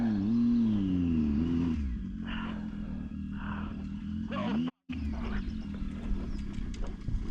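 Motorcycle engine revving hard, its pitch swooping up and down loudly and close before settling to a steady idle rumble, with a brief cut near the end; people talk over the engine.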